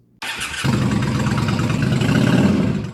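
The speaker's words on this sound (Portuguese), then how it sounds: "Dois cilindros entrando em combustão ao mesmo tempo, seguido de mais dois cilindros." A Ducati V4 Twin Pulse motorcycle engine, firing cylinders in pairs, cranks and catches, then idles loudly with a throbbing, uneven pulse before cutting off.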